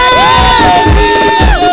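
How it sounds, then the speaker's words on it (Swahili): Church congregation at a fellowship service cheering loudly with high, wavering ululation and shouts rising and falling over a crowd roar, close and full. "Wapi shangwe na vigelegele?"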